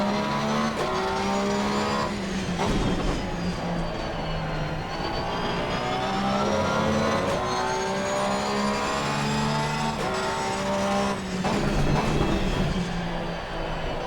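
Porsche GT3 R race cars in the game Assetto Corsa Competizione at Brands Hatch, engines wailing close and loud through repeated upshifts and downshifts, rival cars droning alongside, with brief tire squeals.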